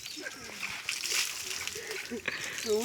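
Milk is poured out and splashes onto the ground during a farmers' loan-waiver protest in Maharashtra, a wet sloshing splatter heard close under loud, overlapping voices.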